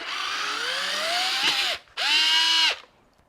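A FANTTIK NEX L1 PRO electric screwdriver backs out a screw in two whining bursts. The motor pitch rises through the first run, then cuts out briefly before a second, steadier burst that stops abruptly.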